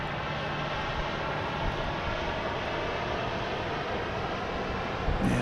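Boeing 717 airliner, a DC-9 derivative, at Dallas Love Field Airport at night, producing a steady, broad jet engine roar that stays constant throughout with no talk.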